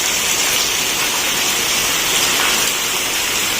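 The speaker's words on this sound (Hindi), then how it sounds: "देखिए कितनी तेज बारिश आ रही है" Heavy rain pours down steadily during a monsoon downpour, a dense, loud, unbroken hiss of water striking surfaces with no voices.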